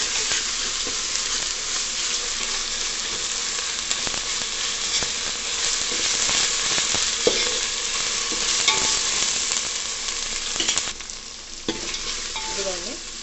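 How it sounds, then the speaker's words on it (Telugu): Ginger garlic paste frying with onions in a pan, with a steady, close sizzle and occasional stirring scrapes throughout, no voices. "ఇప్పుడు అల్లం వెల్లుల్లి పేస్ట్ 1 స్పూన్ వేసుకున్నాం. ఇది పచ్చి వాసన పోయేంత వరకు వేయించుకున్నాం."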